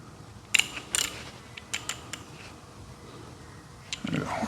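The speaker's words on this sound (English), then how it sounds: "Actually, I always zero out my torque wrench." A torque wrench being wound back to zero, its ratchet mechanism giving off a few sharp clicks spread unevenly through the moment, close and fairly quiet.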